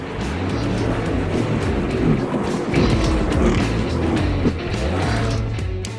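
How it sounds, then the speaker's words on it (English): NASCAR stock car spinning out in turn 2 at Dover in 2017, a loud continuous engine roar with shifting pitch and a blur of other race cars passing close by, no speech. "the 83, usually driven by Corey LaJoie, spins in turn 2 to bring out the first caution of the day."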